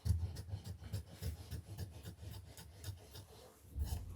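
Pajama pants fabric being cut for sewing, heard as close, repeated rasping rubs in an uneven rhythm with no talking.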